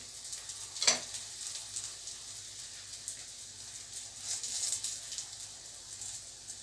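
Katmer pastry fries in a hot pan with a soft, steady sizzle and faint crackle, holding level throughout except for one sharp tick near the start.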